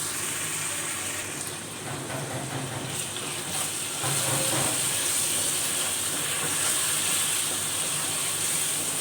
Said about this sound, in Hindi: लहसुन अदरक को अच्छी तरह से इसकी भुनाई करेंगे।